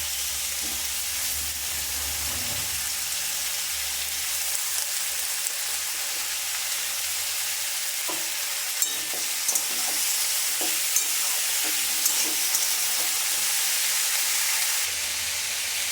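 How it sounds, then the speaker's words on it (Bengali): Mixed winter vegetables with cauliflower stalks and shredded cabbage sizzle steadily in a pan, with scattered scraping clicks of a spatula stirring them through the middle of the stretch; no voices. "সবজিগুলো তো এবার একটু ভাজা হয়ে গেছে, এবার এতে কপির ডাঁটিগুলো আর বাঁধাকপিগুলো দিয়ে দিলাম।"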